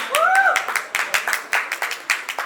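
A small crowd at a roka ceremony in Lucknow applauds a lady's earrings. A quick run of uneven hand claps follows a brief vocal sound at the start.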